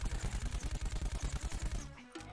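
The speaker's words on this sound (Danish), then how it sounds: "Det lignede bare nogen, der skudte derovre." Rapid bursts of gunfire from the Plants vs Zombies Garden Warfare video game, a steady rattling volley of about twenty shots that stops abruptly, followed by a brief softer thump.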